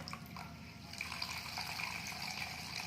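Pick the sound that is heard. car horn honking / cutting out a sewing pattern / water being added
water being added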